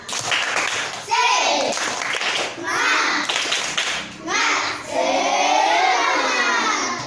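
Elementary school pupils in a fourth-grade classroom perform a rhythmic spirit clap, bursts of loud, patterned clapping mixed with children's chanting voices, close and energetic throughout.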